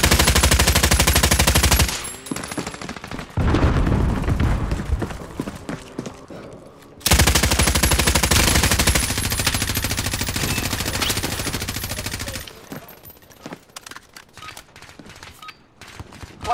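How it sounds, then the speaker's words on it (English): Rapid video game gunfire in loud sustained bursts, broken by brief pauses, with a long second volley before it thins to scattered shots. "Under hostile fire."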